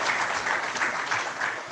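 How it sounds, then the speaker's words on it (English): Audience applause at the AFNOG 2019 networking conference day, a steady, dense patter of many hands clapping together, moderately loud and unbroken across the short stretch. "Let's clap for them, please."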